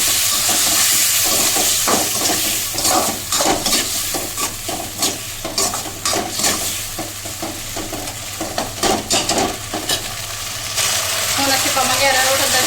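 A chilli paneer sauce mix with soy sauce is stirred in a pan, with repeated scraping strokes over a steady hissing sizzle, close and fairly loud.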